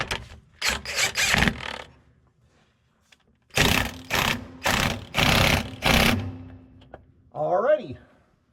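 Pneumatic impact wrench tightening the slip clutch on a Gleaner combine, loud rattling bursts in two groups, four short hammering runs then four more after a pause, with a brief voice at the end.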